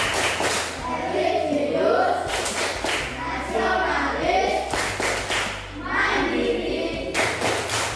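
A class of school pupils in Indonesia performs a PPK chant with rhythmic group clapping, loud bursts of claps in patterned sequences alternating with chanted voices in unison.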